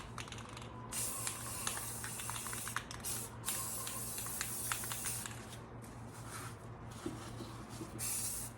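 Aerosol spray paint, black Ultra coat paint and primer, sprayed in several bursts of airy hiss, some long, some short, with brief pauses between, fairly faint and close, no voices.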